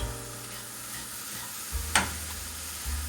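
Flour roasting in oil for a plain, soft Turkish flour helva is stirred with a scraping motion in a pan, giving a steady low sizzle with a couple of brief louder scrapes near the end, no voices.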